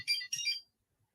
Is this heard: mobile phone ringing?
yes